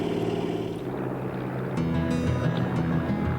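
A propeller airplane takes off downhill on a glacier runway. The engine drones loud and steady, and the pitch rises as the power builds partway through.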